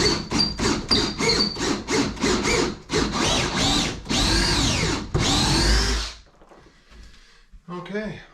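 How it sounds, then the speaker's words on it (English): A power drill bores into a wall for a DIY floating shelf, loud and close in a quick series of short stuttering bursts, then a few longer whining runs before stopping, with a voice faintly at the end. "So I should be able to take my drill now by holding that against the wall tight and drill that in."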